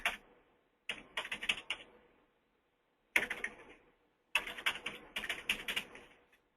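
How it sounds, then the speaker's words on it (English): Bursts of clicky keyboard typing come in several separate runs with short silent pauses between them, close by and fairly quiet. "Let me type in my toll-free number."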